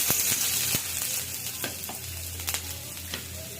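Green chilies, chopped garlic and onion frying in a little oil, a soft, continuous sizzle with occasional clinks and scrapes of a spoon stirring in the pan, close by and without talk.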